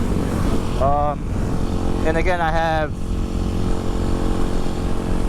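Kawasaki KLX300SM motorcycle engine running steadily as a constant low drone throughout, with someone talking over it.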